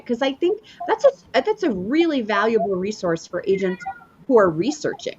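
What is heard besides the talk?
cat meowing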